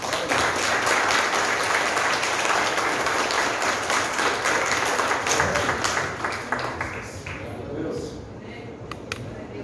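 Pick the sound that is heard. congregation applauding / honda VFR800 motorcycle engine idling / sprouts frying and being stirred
congregation applauding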